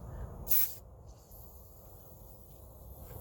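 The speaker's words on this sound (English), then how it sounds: "So I'm gonna spray with the W40." A short hiss of WD-40 penetrating oil sprayed onto rusty rear brake parts of a 2010 Cadillac CTS bursts out once, brief and fairly close, against a quiet background.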